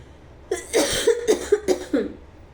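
A person coughs repeatedly, five or six harsh, hacking bursts in quick succession, loud and close.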